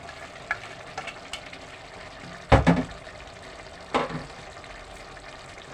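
Cooked spaghetti being stirred into a beef bolognese sauce in a pan: a soft sizzle underneath with scattered scraping and clattering stirs, two louder clanks standing out midway, no voices.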